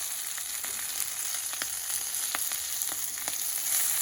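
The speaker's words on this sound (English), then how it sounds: "we have to fry this one for 1 to 2 minutes" Urad dal and red chili fry in hot oil in a pan, a steady bright sizzle dotted with small pops and crackles, close and even throughout with no voices.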